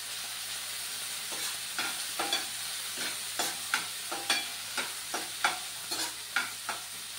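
Green peas fry in a pan with a constant sizzling hiss, punctuated by a regular series of sharp stirring scrapes and clacks from a spoon, with no voices.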